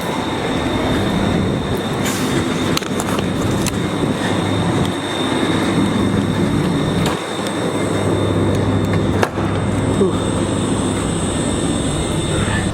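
Train running on rails, a steady loud rumble with rolling wheel noise, a sustained high whine and occasional sharp clacks throughout.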